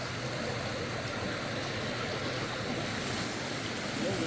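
Happy Creek in North Cascades National Park rushes past nearby, a constant broadband hiss of clear flowing water with no pauses and no talking.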